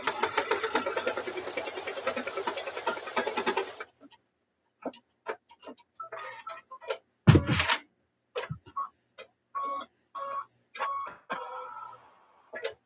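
Sewing machine running a stitch on a quilt block, a steady, fairly close mechanical whir for about four seconds, then it stops and scattered clicks and knocks follow.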